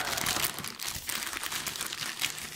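Packaging of a Leagoo Kiicaa Mix phone parcel delivered by DHL crinkles and rustles loudly and continuously as it is handled and opened, close up with no talking.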